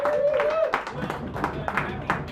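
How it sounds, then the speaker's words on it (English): Audience at a café open mic night gives scattered, fairly sparse hand claps in an uneven rhythm, with a voice talking over them. "let's give him another big warm round of applause"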